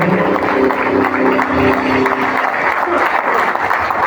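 A church congregation applauds during a Spanish-language worship service, a steady wash of clapping that sits over sustained voices or music for the first half and then continues alone.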